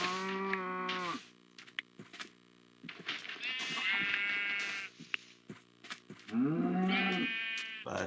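Sheep bleating in several loud, wavering calls near the microphone, with quieter stretches of farmyard sound between them and a brief human voice.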